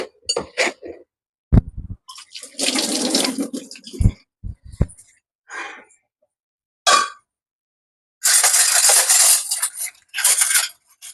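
Water poured into dosa batter in a home kitchen, heard as several short bursts of splashing and pouring with clinks of a vessel and spoon between them, close and fairly loud, with no talking.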